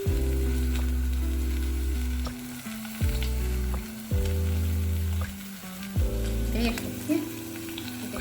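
Ingredients for a Kadalekalu and Suvarnagedde sambar frying in oil, a steady close sizzle broken by several stirring scrapes and clatters, with no talk.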